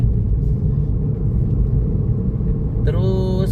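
The engine of a 2012 Ford Fiesta Trend runs close by as a steady low rumble, and a brief tonal sound appears near the end.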